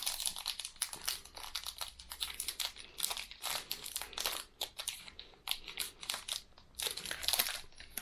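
A cookie-cream flavoured protein bar wrapper is torn and worked open close up, giving loud sharp plastic crinkling and crackling in irregular bursts over several seconds, with no voices.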